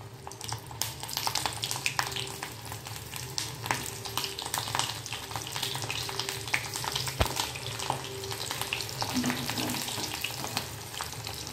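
Stuffed green chillies fry in hot oil over low heat, a continuous close sizzle and crackle with occasional light clicks from turning them, and no one speaks.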